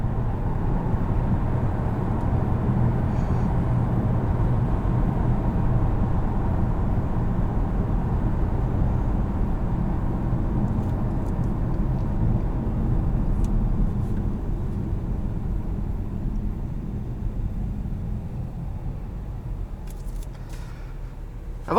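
A 2018 Acura TLX A-Spec with a 3.5L V6 drones steadily from inside the cabin, a continuous low engine and road hum that eases slightly toward the end, with no voices.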